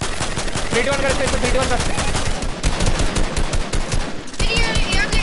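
Gun firing in the video game Fortnite, loud rapid bursts of repeated shots near and punchy, broken by brief pauses, with players talking over it.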